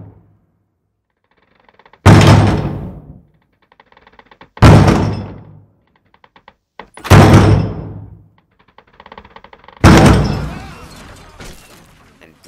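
Violent blows striking and breaking down heavy bronze doors: four loud, booming impacts spaced a couple of seconds apart, each with a long ringing decay, the last one harsher and more splintering.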